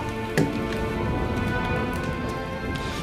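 Steady rain falls on an outdoor surface, a dense close patter with a single louder drop near the start, continuing alone without voices.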